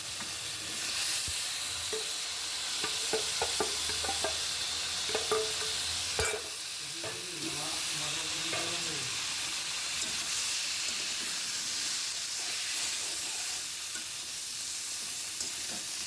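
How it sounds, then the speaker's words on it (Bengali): Steady sizzling of vegetable stalks, bean seeds and potatoes frying with spices in a pan, with intermittent scraping and clattering as they are stirred, close and continuous with no voices. "সবগুলো মশলাটার সাথে একটু কষিয়ে নিলাম"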